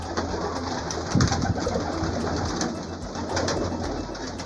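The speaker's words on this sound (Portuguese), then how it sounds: "Olha aí a galera de pombo" A flock of homing pigeons coos softly and repeatedly in a loft, low rolling calls overlapping against steady outdoor background noise, with no talking.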